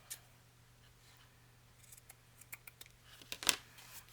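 Scissors snipping through paper while trimming a travelers notebook page, a few quiet cuts building to one sharp, crisp snip near the end over a low steady hum.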